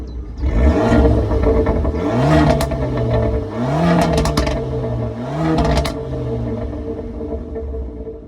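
Remapped Abarth with a new intercooler revving hard in three rising bursts, each ending in loud exhaust pops and crackles, heard close from inside the car over a steady engine rumble.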